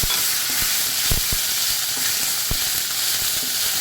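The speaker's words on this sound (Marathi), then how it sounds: "एका पॅनमध्ये मी दोन चमचे तेल घालते फोडणीला मी जिरे घालते हिंग घालते" Cumin, asafoetida and chili-garlic paste tempering in two spoons of hot oil in a pan give a loud, steady, close sizzle throughout, broken by occasional stirring knocks and scrapes.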